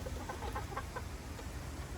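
A rooster clucks in short, close bursts against a low background hum, a few quick throaty notes before fading into quiet.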